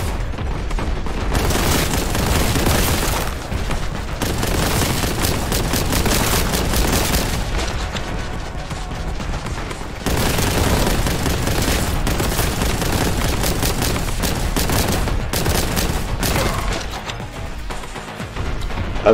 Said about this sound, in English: Lots of gunshots.